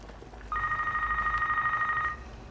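A telephone rings once indoors just before an answering machine picks up, a steady electronic warble holding for about a second and a half over quiet room tone.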